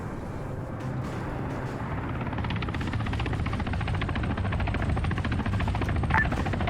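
Mi-28 attack helicopter in Arma 3, a steady rotor thrum and turbine whine that holds at moderate loudness throughout, with no talk.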